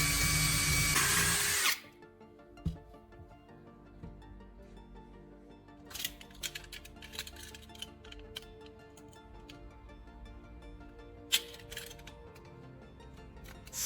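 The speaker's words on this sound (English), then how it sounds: "Use a drill to make a small hole near one end." A drill working on a small plastic tube: a loud whir cuts off early, then quiet ticking and scraping with a few brief bursts as the bit touches the plastic.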